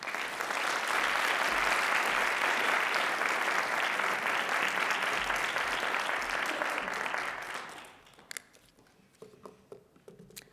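Sustained audience applause fills a lecture hall welcoming a speaker at a university event, loud and steady for about eight seconds before fading into scattered claps and room noise.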